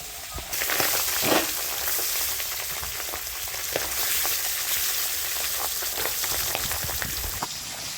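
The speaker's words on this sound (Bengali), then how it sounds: "এগুলো মাছ ফুটে তেলে দিলে। কিভাবে মাছগুলো ফুটতেছে" Fresh river fish (kajli) frying in hot oil, a dense steady crackling sizzle with scattered sharper pops, loud and close throughout with no talk.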